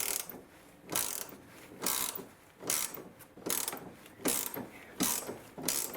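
A ratchet spanner clicks in repeated bursts while loosening a stabilizer link nut on a Mercedes W204 front anti-roll bar, with about eight close, loud runs of rapid pawl clicks evenly spaced and no talking.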